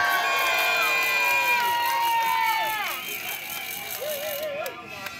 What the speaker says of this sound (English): Give yourselves a big cheer